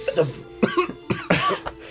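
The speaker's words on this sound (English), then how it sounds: "I'm just coughing at your ridiculous ideas" A few sharp, forceful coughs in quick succession, close by, with a bit of throat noise between them.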